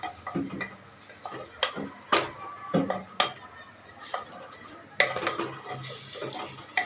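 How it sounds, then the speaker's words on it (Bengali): Meat being stirred and fried in a pan, with a spoon clinking and tapping against the metal at irregular intervals over a faint background sizzle. "এখন ভালোভাবে নেড়ে চেড়ে ভাজবো অনেকক্ষণ টাইম ধরে ভাজবো আমি"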